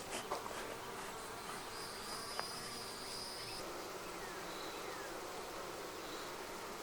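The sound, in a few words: honey bees buzzing around hive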